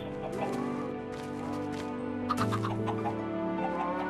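Clucking chickens in a blocky farming video game, a few short bird calls layered over steady game music and tones, fairly close and moderately loud.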